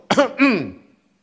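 A single short cough-like burst from a nearby voice, two quick harsh pulses that fade out, performed as an imitation rather than a real cough.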